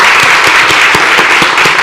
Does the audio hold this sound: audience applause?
yes